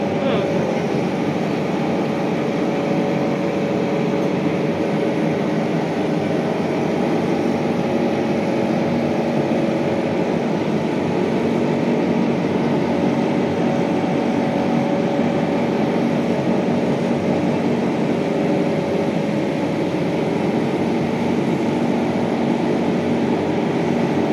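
A laser cloth cutting machine runs as it cuts fabric, giving a steady, even mechanical hum and whir that keeps going without a break for the full length.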